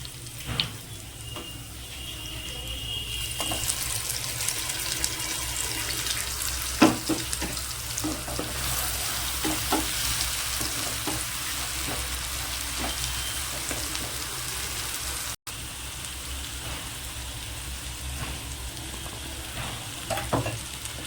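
Spice paste frying with browned onions for a lote (Bombay duck) fish curry, a steady broad sizzle with occasional stirring scrapes and clinks, close and continuous, with a brief dropout partway through.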